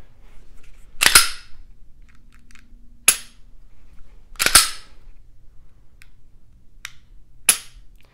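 Shield Plus pistol trigger dry-fired and reset, heard as a handful of sharp, crisp clicks spaced irregularly over several seconds, fairly close and alone against a quiet background.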